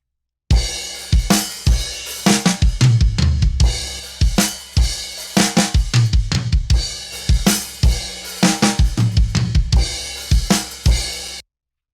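Full drum kit captured by a single mono overhead mic through a Neve preamp, from a mix; steady kick and snare hits with washing cymbals play loud and close, without talk.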